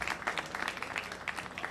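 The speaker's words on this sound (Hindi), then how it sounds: "ज़रा तालियां वालियां बजती रहें" A patter of clapping from a small group, steady and fairly soft, with no talk over it.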